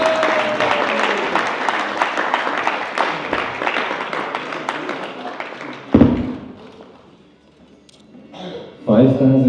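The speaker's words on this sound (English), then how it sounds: "let's give a big round of applause to our actors and actresses." Audience applause for actors and actresses at a Gaura Purnima class and drama in Manchester, a dense crowd clapping for about six seconds before fading out, followed by quiet and a brief voice.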